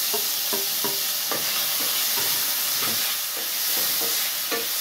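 Onion and tomato sautéing together in a pan for chicken feet, a loud continuous sizzle up close with soft rhythmic scrapes of stirring, no voices.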